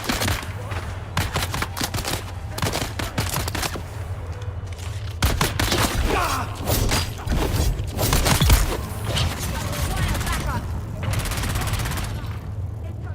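SMG gunfire in the video game Dune Awakening, rapid bursts of automatic shots in clusters with pauses between, fairly loud, with a voice talking over parts of the fighting.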